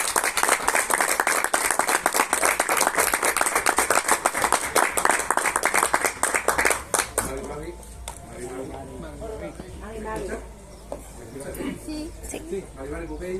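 Audience applause at a book presentation during a book fair, a dense burst of clapping for about seven seconds that stops abruptly, followed by a speaker talking to the room.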